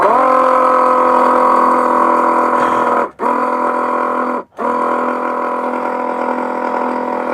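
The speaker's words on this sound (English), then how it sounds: "we have this little pump here, which is gonna make putting the oil in so much easier" A small electric pump whines steadily as it pushes oil into the differential of a GQ Nissan Patrol, cutting out briefly twice before running on at an even, close-up pitch.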